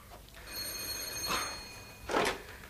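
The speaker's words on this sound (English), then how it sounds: "That's the doorbell, dear, not the telephone." A doorbell rings twice in a quiet interior scene of a radio play, two bright, tonal chimes spaced about a second apart, with no voices over them.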